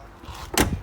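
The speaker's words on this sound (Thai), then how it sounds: "ป้าปิดประตูบ้าง" A house door swings and bangs shut in a single short, fairly close thump, preceded by a moment of quiet room sound.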